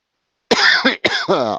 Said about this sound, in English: I'm coughing up a lung.